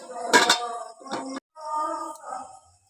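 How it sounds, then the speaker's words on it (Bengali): A wok set down on a home stove while making crispy khaja sweets, a few clear metallic clanks and scrapes close by, then a softer clatter of pan against the burner. "কড়াটা বসিয়ে দিলাম"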